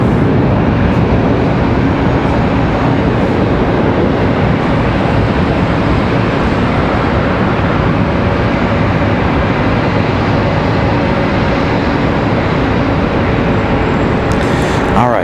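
An airliner arriving at Charlotte Douglas airport makes a loud, continuous broadband roar that stays steady and dense throughout, like a jet passing close overhead.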